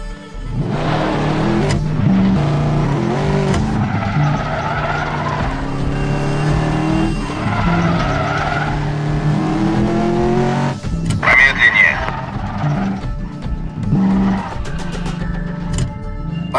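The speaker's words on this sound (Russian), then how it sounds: "Подожди, пока он проедет." Car passing by in the Medal of Honor Warfighter game, engine rising and swelling close by with tire squeal, accompanied by background music and game effects, and a shout near the end.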